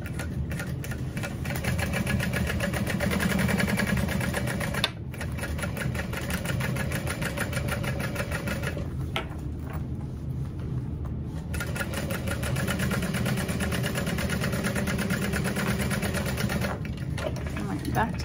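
A sewing machine runs almost without pause while sewing webbing on a Fortuna backpack, a close steady mechanical hum with a few brief dips, and a voice talks over it throughout.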